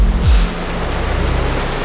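A rain-swollen river rushes in a steady, loud roar of turbulent water close by, with a brief low rumble at the start.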